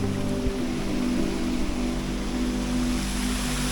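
Waterfall water pouring out of rock on a snowy day hike in Sewanee, Tennessee, a loud steady broadband rush with a low rumble, heard close and continuous.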